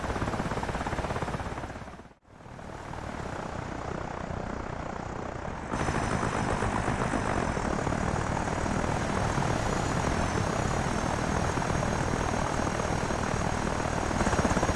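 A plane-guard helicopter in the DCS flight simulator gives a steady, loud rotor and engine drone, with a brief dip near the start before the continuous roar resumes.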